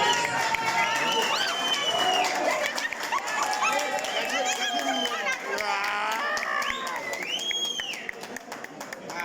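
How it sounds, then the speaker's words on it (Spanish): A school gala audience applauds and cheers for two young performers, the clapping steady and fairly close beneath a busy layer of shouting, excited voices and crowd chatter throughout. "Un aplauso para ellas."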